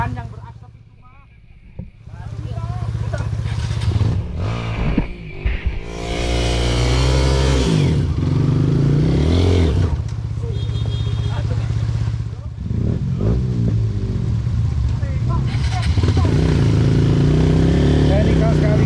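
A struggling, smoking off-road motorcycle revs hard on the steep Cimaung trail, its loud engine drone rising and falling almost without pause while several people shout and talk over it.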